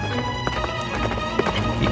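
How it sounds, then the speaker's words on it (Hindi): Horse hooves clip-clop in a steady, fast rhythm amid a dense, loud bed of music and ambience, sounding fairly near. "घोड़े की टापों की आवाज धीरे धीरे मेरे करीब आती जा रही थी।"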